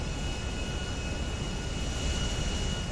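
A big airplane's engines drone steadily inside the cabin in GTA 5, a loud continuous broadband roar with a faint high whine and no speech.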